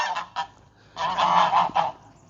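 Farm geese honk loudly and close by, with two short calls followed by a longer run of harsh, overlapping honks.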